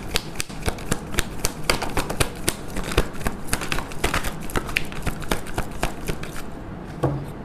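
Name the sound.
shuffling tarot cards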